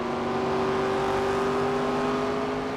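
Stock car engines drone steadily at Phoenix in NASCAR 25, a sustained loud whirring tone with no break and no talk over it.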